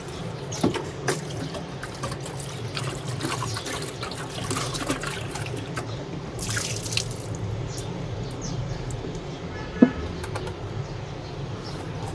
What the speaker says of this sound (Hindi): हम दूसरी लाइट में भी जो पानी डाल के उसको साफ़ कर लेते हैं।